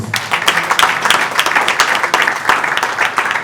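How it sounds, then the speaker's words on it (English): Sustained audience applause at an evening event honouring a speaker, dense steady clapping from a crowd filling the room throughout without a pause. "he deserves a round of applause"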